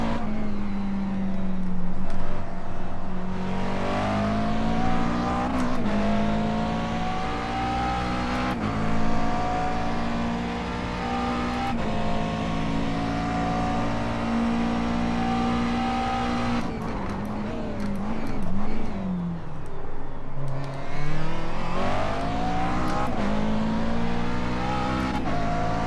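Race car engines at Sebring in iRacing: a loud, sustained engine drone that climbs and drops in pitch through gear changes, with passing cars and occasional tire noise, close and continuous.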